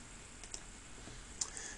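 A few faint key presses on a computer keyboard, sparse light clicks with two sharper taps in an otherwise quiet room.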